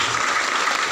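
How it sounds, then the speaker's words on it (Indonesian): Steady crowd applause fills a short moment at an Indonesian barbering event, dense and continuous clapping without pause. "Tepuk tangan."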